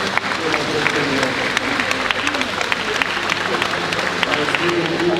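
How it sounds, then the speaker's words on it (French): A congregation at a special mass for Laurent-Désiré Kabila applauds loudly in a continuous, dense wave of clapping from a large crowd, with voices mixed in throughout. "nous allons les accueillir en applaudissant très fort pour notre Seigneur"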